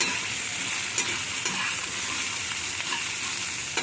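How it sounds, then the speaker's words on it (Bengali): A pumpkin dish frying in a pan is stirred, giving a steady, close hiss of sizzling oil with occasional scraping knocks from the spoon; no one speaks. "আমি আবার একটু নাড়াচাড়া করে নেব।"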